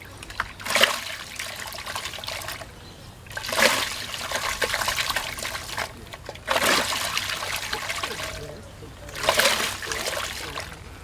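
Water swirled into a vortex for a biodynamic preparation churns and splashes in repeated surges, each rush of sloshing rising and falling about every three seconds, close and fairly loud.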